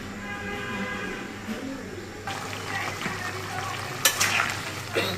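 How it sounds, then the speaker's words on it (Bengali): Pre-cut, washed potatoes stir-fried in a pan, a steady sizzle with scraping stirs that grows brighter partway through, a few sharp clinks near the end, close and continuous with no talk. "আগে থেকে কেটে ধুয়ে রাখা আলুগুলো দিয়ে অল্প কিছুক্ষণ সময় কষিয়ে নিব।"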